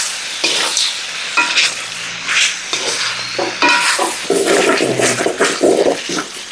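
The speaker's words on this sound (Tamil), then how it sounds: "அடுத்ததாக கேப்சிகமையும் சேர்த்துக்கிறோம் தக்காளிக்காவையும் சேர்த்துக்கிறோம்" Capsicum and tomato stir-fried in a pan for devilled chicken wings, with a spatula scraping and stirring through a steady close sizzle; the clattering strokes come in uneven bursts throughout.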